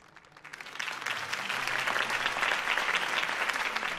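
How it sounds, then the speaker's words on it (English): A crowd in the video game Batman: The Telltale Series bursts into applause that swells within the first half second and then holds as steady, dense clapping. "could have heard that applause"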